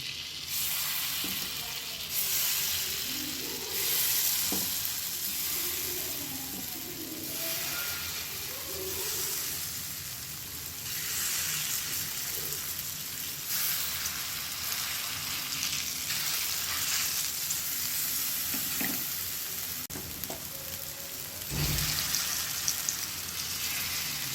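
Mushrooms shallow fry in melted butter in a pan, giving a continuous soft sizzle and crackle with occasional brief clatters, and a louder knock near the end.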